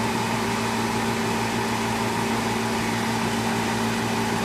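A workshop exhaust fan runs steadily while smoke comes off broken violin rosin being melted down, producing a constant loud whirring drone with a low hum underneath and no pauses.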